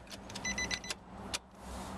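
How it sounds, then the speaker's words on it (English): Electric windows of a 2005 Nissan Cube 1.4 automatic hatchback whir briefly inside the cabin, a short motor hum between soft clicks and handling noises. "In here we have electric window controls, wing mirror controls"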